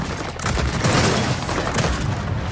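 Gunfire from the video game Gears of War 4 rattles loud and dense, a sustained barrage of overlapping shots and booms filling the whole moment without any voices.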